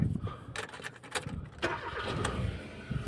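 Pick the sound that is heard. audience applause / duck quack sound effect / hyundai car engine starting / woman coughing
hyundai car engine starting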